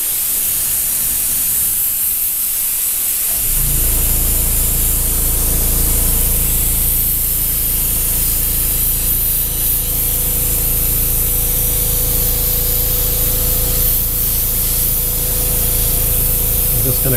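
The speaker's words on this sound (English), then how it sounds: "I'm not laying the paint down heavy. I'm just doing a real light mist, because we're going to go in layers." Aerosol spray paint laid on as a light mist for layered coats on a craft-show piece: a steady hissing spray that begins after a quiet start and runs on close and even.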